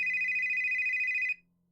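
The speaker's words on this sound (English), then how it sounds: "you can hear the apartment phone buzz" An apartment phone buzzes in one steady, fairly loud electronic tone over a low hum, then cuts off abruptly and leaves only the hum.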